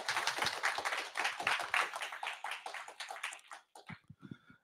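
Audience applauding a speaker arriving to give a talk on puzzle-making, dense clapping that thins out and breaks into a few scattered final claps before quiet.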